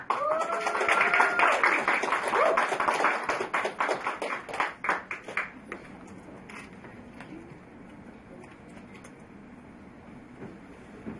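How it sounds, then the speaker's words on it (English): Applause from a press-conference audience greeting figure skater Johnny Weir, a burst of clapping that rises quickly and then thins out and fades to quiet room tone after about five seconds. "a press conference starts with applause"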